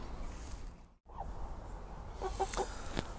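Chickens cluck outside a garden chicken house, a few soft calls rising over steady low outdoor background noise, moderately distant and fairly quiet.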